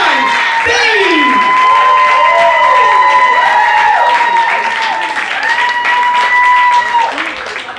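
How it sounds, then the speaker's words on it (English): A crowd applauds and cheers loudly for a performer named Adan Bean, with steady clapping, whoops and shouts, and a whistle-like voice rising over the din at close range throughout. "Put your hands together for ADAN Beam."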